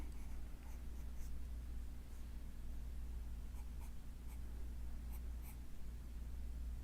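Pencil strokes on paper from a Marie's brand pencil while sketching an ancient Roman stone head, soft scratchy marks in short bursts over a steady low hum, quiet and close.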